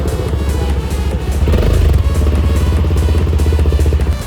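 A new CFMOTO 300SR motorcycle starts for the first time, its engine catching and settling into a loud, steady, close idle with a rapid pulsing rumble throughout.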